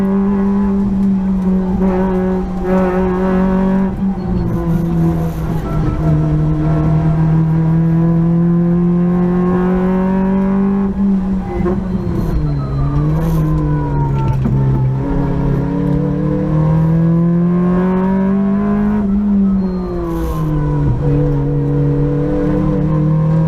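A rally car engine revs hard and continuously at the Mull Rally, loud and close throughout, its pitch rising and dipping through gear changes with a steady droning roar.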